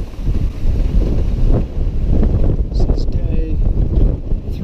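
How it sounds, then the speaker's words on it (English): A strong offshore gale of about 35 knots, gusting to 40, roars steadily over a sailboat running downwind under a double-reefed staysail, loud and continuous with broadband wind buffeting against the microphone and rushing water. "It's a pretty good wind, probably 35, maybe gust of 40."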